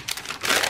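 Baking paper being handled for mixed media journal work, a soft dry crinkling and rustling that grows louder toward the end of the short moment, close by with no talk.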